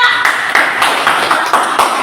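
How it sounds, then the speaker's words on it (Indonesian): Applause in a classroom for a student group, a dense run of many hands clapping with rhythmic surges, loud and close, with a voice mixed in. "Tepuk tangan yang meriah untuk kelompok 2."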